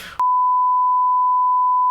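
A steady, pure-toned censor beep sounds loud and unbroken for almost two seconds, cutting in abruptly after a brief snatch of muffled sound and stopping sharply.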